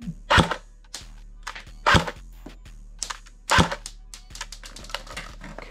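Airsoft AK-47 firing test rounds, including aluminum ammo, gives about four sharp, loud shots spaced roughly a second or more apart, with lighter clicks and rattles between them over a steady low mechanical hum.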